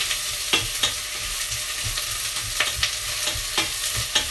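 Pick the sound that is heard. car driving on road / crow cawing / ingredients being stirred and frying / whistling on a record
ingredients being stirred and frying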